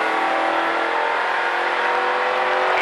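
A race car on a driving-experience track accelerates with a loud, sustained engine roar. The tone rises steadily as it speeds up, close and continuous with no break. No voices are heard over the engine.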